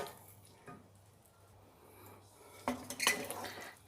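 Cooked food is plated, with soft quiet handling at first and then a few light clinks and scrapes of utensils against a plate near the end, with no talk.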